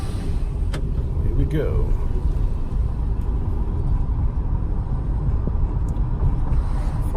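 A 2011 VW Golf, just fitted with a new CV joint, rolls down a street off the ramps, its steady engine and road rumble running throughout, close and continuous, with someone talking briefly over it.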